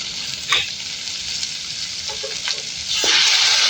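Pork sizzles in a pan in a rural home kitchen in Makato, Aklan, while a spoon scrapes and stirs it in a few distinct strokes, the frying hiss growing louder toward the end.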